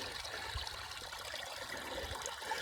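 A creek runs through big hills in Wisconsin on a mild April day, its water trickling with a faint, steady, even wash and no voices.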